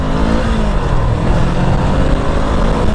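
A loud engine drones and rises steadily close by as an FKM Glider 500 motorcycle pulls hard under acceleration to about 6,000 RPM, with no talk over it.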